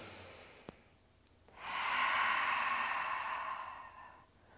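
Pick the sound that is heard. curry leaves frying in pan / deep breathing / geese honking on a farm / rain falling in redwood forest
deep breathing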